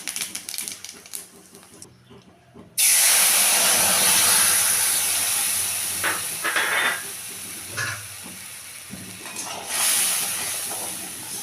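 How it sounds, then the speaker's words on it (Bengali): Whole cumin seeds and whole garam masala drop into hot oil for an egg korma and erupt into a loud, sudden sizzle that hisses strongly, then fades and surges again, with faint talk underneath. "দিলাম জিরে ফোড়ন"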